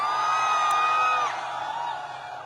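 A large crowd whooping and shouting together at an AWPL event in Kanpur, a sustained loud roar of voices with ringing high cheers that eases slightly toward the end.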